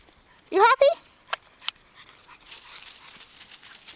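A playful pet dog makes a short burst of whimpering, yelping sounds near the start, with a couple of sniffs or snorts afterward and a low outdoor background.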